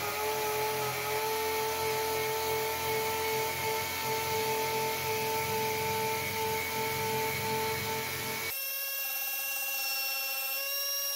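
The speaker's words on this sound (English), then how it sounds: "here's the demonstration of the sander so you can see how fast it's spinning" A Central Pneumatic 6 in. self-vacuuming palm air sander spins with no load, a loud, steady high whine with strong hum, then its pitch shifts abruptly near the end into thinner ringing tones, with no voices.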